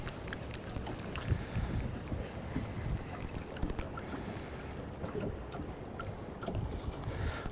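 Wind buffets the microphone on a small fishing boat out on the water, a constant rough low rumble with gusty thumps and faint splashing texture throughout.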